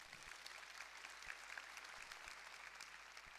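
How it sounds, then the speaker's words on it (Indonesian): A church congregation claps during a sermon, a steady, fairly faint patter of many hands with a few sharper claps, filling the moment without voices. "Tepuk tangan lebih serius, saudaraku."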